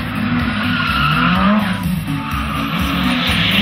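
A Toyota Corolla race car drifts at a 2010 practice session in Osijek, its tires squealing loudly and continuously while the engine revs underneath, close and strong throughout.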